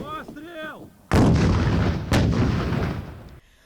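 A brief voice, then two powerful shots from an American M72 anti-tank grenade launcher about a second apart, each a sharp loud blast trailing into a long rumbling echo.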